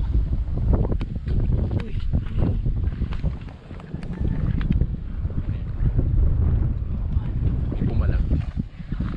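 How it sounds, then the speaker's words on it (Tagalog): Strong wind buffets the microphone outdoors during crossbow hunting by the water, a continuous rough rumbling roar with gusts rising and falling; a voice briefly exclaims over it. "Lakas talaga ng hangin."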